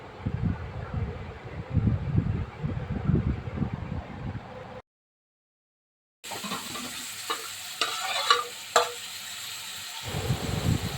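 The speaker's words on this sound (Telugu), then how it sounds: "ఆయిల్ వేడెక్కిన తర్వాత ఆనియన్స్ వేసుకోవాలి." Onions fry in hot oil over a wood fire for a tomato sauce, a soft steady sizzle with stirring scrapes, broken by a brief silent gap before the frying resumes.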